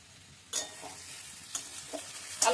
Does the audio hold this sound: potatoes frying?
yes